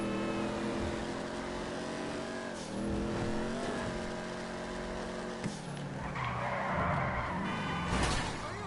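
A muscle car in GTA Online is double clutched, the engine note climbing, dropping sharply at each shift and climbing again, then a skidding, scraping rush near the end; no voices over it.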